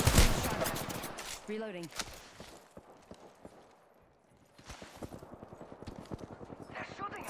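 Gunfire crackles in the Apex Legends video game: a dense burst of rapid shots opens, then scattered pops and bursts return after a lull, with a player talking over the action.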